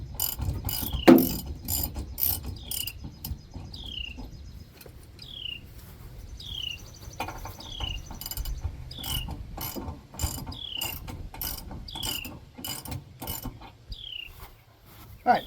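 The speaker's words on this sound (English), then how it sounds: "You'll need a wrench for these, for the lock nuts," A ratchet wrench tightens lock nuts on a Reese gooseneck hitch adapter for a 5th wheel trailer: rhythmic clicking strokes repeat roughly every second, close and crisp, with faint birdsong in the background.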